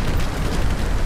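Pirate ship cannon fire in the PC game Maelstrom, heard as a loud, continuous, roaring blast of booming noise that fills the whole moment without a break.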